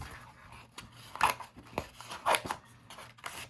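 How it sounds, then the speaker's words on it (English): Scissors pushing through material to open up a center opening, heard as a few soft, crisp snipping and rustling bursts, fairly close and quiet, with gaps between cuts. "I'm just gonna push my scissors through, make some room for myself"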